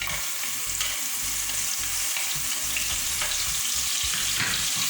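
Onions frying in a pan with turmeric powder and ginger garlic paste, a steady dense sizzle with stirring scrapes throughout, close and alone without talk.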